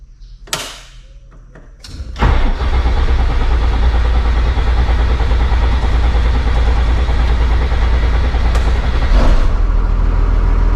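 A school bus engine cranks over briefly, catches and settles into a loud, steady running rumble close by, with a few thumps before it starts.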